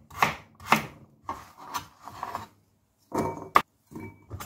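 A knife dices peeled carrot into cubes on a cutting board close by, in quick uneven bursts of sharp taps with brief pauses between.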